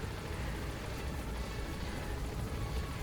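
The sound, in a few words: helicopter landing in Metal Gear Solid V video game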